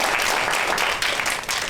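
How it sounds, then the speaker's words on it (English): Dense audience applause fills the room for a presenter's best friend at a PARTNER.Co presentation, steady and continuous with many hands clapping at once. "I would love for you to give a round of applause to my best friend, Sandy."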